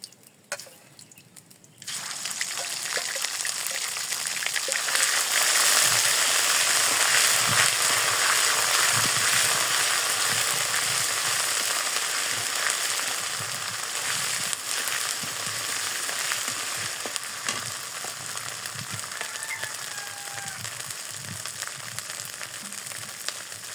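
Ginger, chili and garlic paste added to hot oil in a pan in a village kitchen, giving a sudden onset of loud, steady sizzling and crackling that keeps going and slowly eases off, with no talking.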